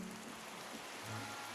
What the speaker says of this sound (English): I can't just turn rain off